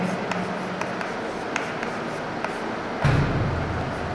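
Close, quiet scratching of a pen writing by hand during a lecture, with short strokes and occasional light taps. A low hum runs beneath, and there is no speech.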